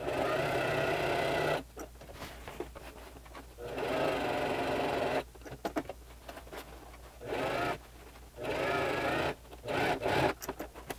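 A sewing machine topstitching a second row along a jacket seam, running in several bursts of rapid mechanical whirring separated by short pauses, close and alone with no voices.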